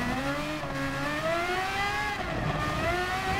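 Red Bull X2019 Competition race car from Gran Turismo Sport roaring at high speed, a loud continuous engine whine climbing steadily in pitch as it accelerates, close and unbroken with no talk.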